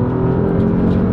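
Porsche 911 Carrera T with sport exhaust engaged, its engine giving a loud, steady drone with a strong low rumble heard from inside the car while driving, no talk over it.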